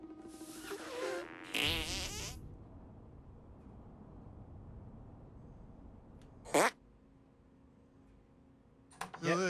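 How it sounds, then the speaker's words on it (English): Fart attacks in South Park: The Stick of Truth burst out in a long, loud, wet blast, followed by a shorter fart several seconds later and another near the end, with keyboard clicks in between. "Make your fart detonate behind me."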